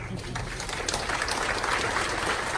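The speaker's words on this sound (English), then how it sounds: "Give her a round of applause" A crowd claps in a dense, sustained burst of applause, fairly loud and close, with voices mixed in underneath.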